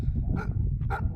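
A big, heavy Nepali dog barking near a lake in the hills, two deep close barks in quick succession over low background rumble.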